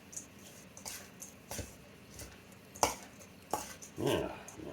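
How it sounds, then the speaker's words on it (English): A mixing spoon stirs a spiced, allspice-seasoned mixture in a bowl, making a series of close, irregular scrapes and knocks with quiet gaps between them. "we'll grab a mixing spoon and give this a good stir"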